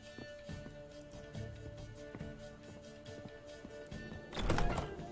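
Roach, Geralt's horse in The Witcher 3, shifts about with soft hoof thuds and gear clatter amid game ambience, then lets out a louder whinnying burst near the end.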